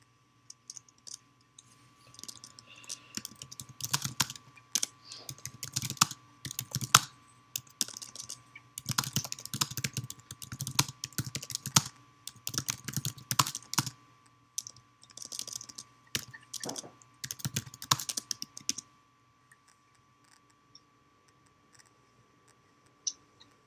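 Typing on a computer keyboard during a Zoom morning meeting, rapid bursts of crisp key clicks with short pauses for about twenty seconds, then quiet, with a faint steady hum underneath.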